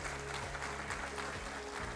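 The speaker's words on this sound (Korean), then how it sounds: "여러분 큰 박수 부탁드리겠습니다" Audience applause at a 2025 science and ICT day award ceremony after the final group of awardees, a soft, even patter of clapping over a steady low hum of the hall's sound system.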